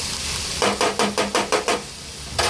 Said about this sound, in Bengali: এবার চিকেনটাও আমি এর সাথে ভালো করে ভেজে নেব।